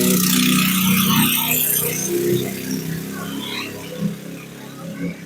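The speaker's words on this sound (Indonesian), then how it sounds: "barusan ada suara motor saya" A motorcycle engine rumbles nearby, fading and settling to a lower idle, with a brief rev near the end.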